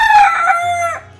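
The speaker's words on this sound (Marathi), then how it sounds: "तू कोंबडा असशील तो ओरडशील" A farm rooster in the Konkan countryside lets out a single drawn-out crow that rises and then trails off, close and clear, followed by a low rumble of background noise.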